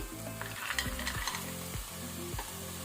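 Frozen peas sizzle and crackle in hot oil with softened tomato in a pan, with steady frying hiss and a few scraping stirs of a spoon at regular intervals.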